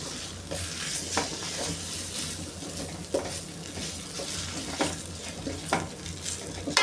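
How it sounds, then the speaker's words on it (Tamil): Idlis are tossed and stirred in a pan coated with idli podi powder. A soft, continuous sizzle runs throughout, broken by irregular scraping and stirring sweeps every second or so, with no voices. "இதில் வந்து இட்லி போட்டுக்கிறேன்"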